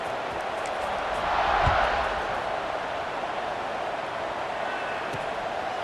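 Home crowd cheering at a college football game in a video game, Temple hosting UMass, a steady broad roar that swells briefly and then settles back, loud and continuous throughout.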